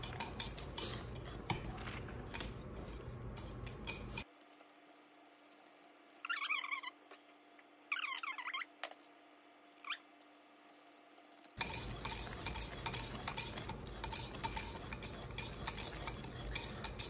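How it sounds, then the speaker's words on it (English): Hot process soap with activated charcoal is stirred in a pot, giving scattered scraping and clinking utensil sounds in short bursts, faint and close, with quiet gaps between strokes. "you want to just keep stirring this till it gets to a very shiny Vaseline looking stage"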